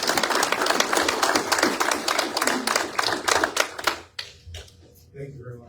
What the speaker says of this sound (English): Round of applause for our officers.